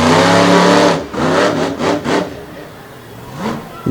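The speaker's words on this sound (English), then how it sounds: "Now you hear another motor in the background." A loud, powerful engine roars and revs with sharp bursts of throttle, then settles into a lower rumble before revving once more near the end.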